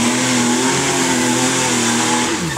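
An RB30-powered Nissan Patrol revs hard at high, steady engine pitch during an uphill drift with wheel spin, loud and close, dipping slightly near the end.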